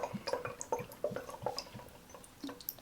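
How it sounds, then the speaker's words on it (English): Witch hazel dripped from a pipette into a small bottle for a homemade body spray, giving a quiet run of close, irregular drips and small liquid splashes with no voices. "put your witch hazel in your bottle"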